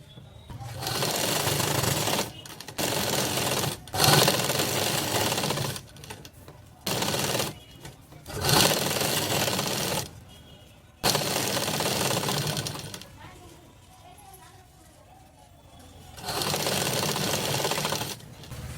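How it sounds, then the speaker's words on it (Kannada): A sewing machine stitching a border onto a blouse runs in loud, rapid bursts of a few seconds each, broken by short pauses and one longer quiet stretch before it starts again. "ರೆಡ್ ಲೈನಿಗೆ ಸ್ಟಿಚ್ ಮಾಡ್ಕೋಬೇಕು"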